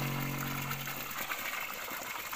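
Alkaline water runs freely from an outlet, a steady broadband gush with a low hum that fades in the first second, heard up close with no voices.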